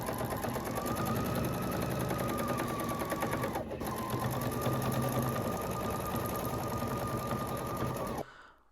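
Sewing machine stitching through rag quilt squares, a loud, fast, steady mechanical whir that pauses briefly midway, resumes, and then stops abruptly at the end.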